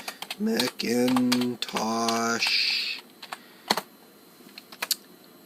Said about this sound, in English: Let's type Macintosh